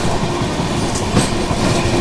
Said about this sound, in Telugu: సో మన ఆపోజిట్లో కలుసుకుంటే జన్మభూమి ఎక్స్ప్రెస్ అయితే వెళ్తుంది.